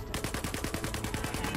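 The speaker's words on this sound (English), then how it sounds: "I hear gunshots." Rapid, rhythmic burst of automatic gunfire in the video game Star Citizen, about a dozen evenly spaced shots in quick succession, steady and fairly loud.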